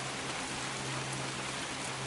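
Cold rain falls steadily outdoors in a garden near tomato plants, an even, moderately quiet hiss with a faint low hum underneath and no voices.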